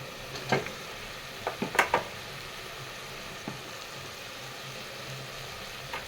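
Peanuts dropping into a pan of sautéing tomatoes for tomato rice: a few sharp clattering impacts in a quick cluster, then a soft continuous sizzle underneath, close and fairly quiet.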